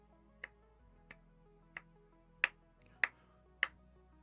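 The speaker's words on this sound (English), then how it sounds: "Slow clap, bro." A slow clap: six sharp, isolated claps spaced roughly half a second apart, quiet and close, with the last three a little louder, over a faint steady background.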